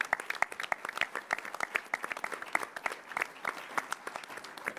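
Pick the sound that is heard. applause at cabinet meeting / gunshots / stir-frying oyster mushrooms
applause at cabinet meeting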